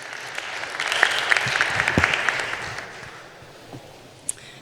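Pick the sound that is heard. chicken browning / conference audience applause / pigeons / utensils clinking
conference audience applause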